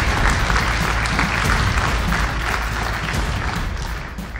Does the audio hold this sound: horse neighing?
no